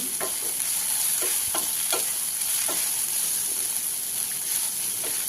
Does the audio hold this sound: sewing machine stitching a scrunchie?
no